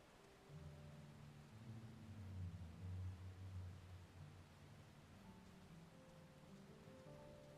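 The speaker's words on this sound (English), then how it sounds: "get out of the rain?" Rain falls in the video game Final Fantasy 14 as a faint, steady hiss with a low rumble that swells briefly partway through, continuous and distant.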